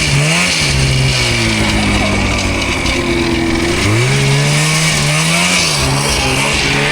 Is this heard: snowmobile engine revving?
yes